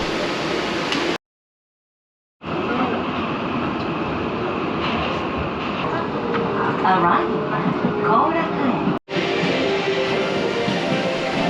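A Tokyo Metro Marunouchi Line train on the Ikebukuro stretch gives a steady rumble and rail noise from aboard, with brief gaps of silence and voices present over the running sound.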